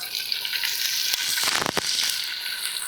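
Close, steady sizzling of food frying in oil, with a brief burst of louder crackling partway through.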